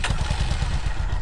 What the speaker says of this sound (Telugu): ఇది ఎగ్జాస్ట్ సౌండ్ ఒకసారి స్టార్ట్ చేస్తా వినండి.